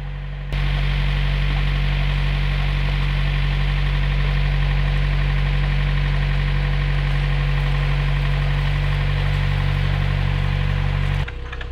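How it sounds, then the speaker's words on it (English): A steady, low traditional narrowboat engine putters at idle on a canal, a constant deep thrum with faint vibration, running evenly before cutting off at the end. "the satisfying putt of a traditional engine"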